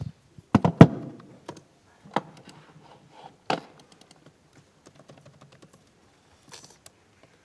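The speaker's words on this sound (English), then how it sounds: "Keyboard." Keys on a computer keyboard are tapped in scattered, sharp clicks and a few heavier thunks, close and quiet, with long pauses between bursts and no talking.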